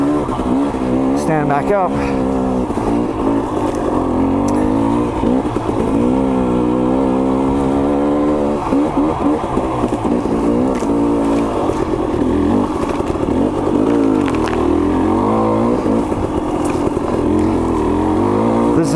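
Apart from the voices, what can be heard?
dirt bike engine on trail, shifting gears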